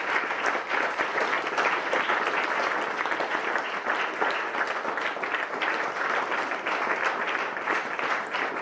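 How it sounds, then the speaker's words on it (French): Sustained audience applause at a 2015 festival event, dense continuous clapping from a crowd, steady and fairly loud throughout with no speech over it. "Applaudissez-vous vous-même d'être ici."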